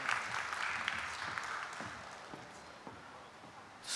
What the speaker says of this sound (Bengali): তাকে আমরা জোরে করতালি দিয়ে আমন্ত্রণ জানাবো